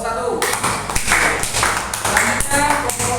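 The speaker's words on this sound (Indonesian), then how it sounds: "Tepuk tangan untuk kelompok 1." Applause from a classroom group, steady clapping of many hands sustained throughout, loud and close.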